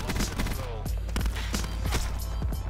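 Daemon 3XB submachine gun in Black Ops 4 set to rapid fire, letting off a fast, nearly automatic stream of close, loud shots in uneven bursts over steady game background noise.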